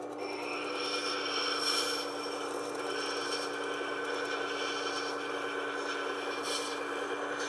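A wood carving gouge bevel is rubbed back and forth on 320 grit sandpaper, making a steady, close, moderately loud scratchy rasp with slight rhythmic swells and a faint background hum, with no talk.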